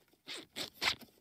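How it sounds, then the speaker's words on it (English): Three quick zipper strokes rasp in a row in the animated comedy Family Guy, short and crisp with brief gaps between them. "I want to zip it"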